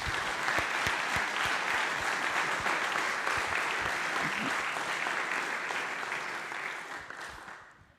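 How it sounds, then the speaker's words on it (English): A room full of audience members applauds, a dense wash of clapping that starts strong and close, then gradually thins and fades out toward the end. "So one more round of applause."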